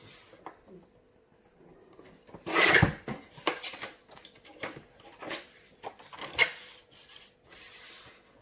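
Paper is cut by hand for a scrapbooking project, giving scattered soft snips and rustling scrapes of varying loudness, with one louder burst early on, up close and without talk.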